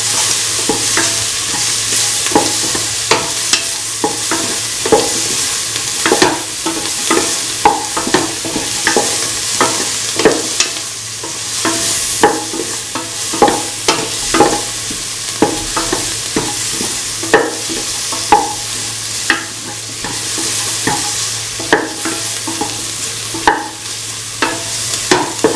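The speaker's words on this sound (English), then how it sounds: "Keep on sauteing." Cauliflower and bottle gourd sauté in a pan, a loud continuous sizzle broken by frequent rhythmic scrapes and taps of a spatula stirring the vegetables.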